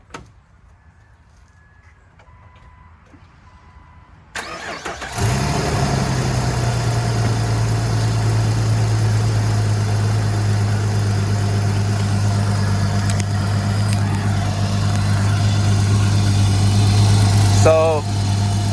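A wrecked Jeep LJ engine cranks and catches after a few seconds of quiet. It then settles into a loud, steady idle with a constant low drone, and a brief rattling burst comes near the end.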